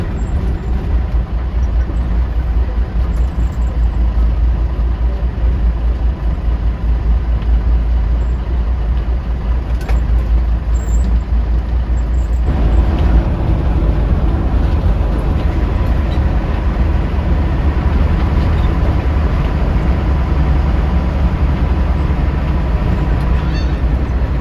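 An economy-class bus speeding along a toll road, heard from inside as a loud, constant low engine and road rumble with a slight shift midway, no talk.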